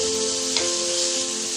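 Ginger garlic paste sautéing with onions in a pan for beetroot kootu, a steady close frying hiss with a brief stir or scrape partway through.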